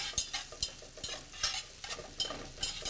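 Shallots sauté in butter over medium heat in a pan, with a soft close sizzle broken by regular scraping stir strokes about every half second, and no talking.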